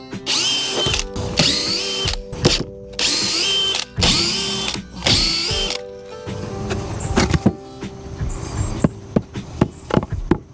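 Power drill backing screws out of a wooden raised garden bed, several close, loud whirring bursts of a second or so each, followed by quieter rattling and handling clatter.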